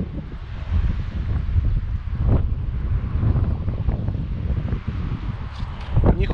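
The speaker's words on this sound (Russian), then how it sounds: "порывы ветра довольно сильные" Strong gusts of wind sweep across a seaside cliff top at Fiolent in Crimea, a steady buffeting roar and rumble against the microphone that swells near the end.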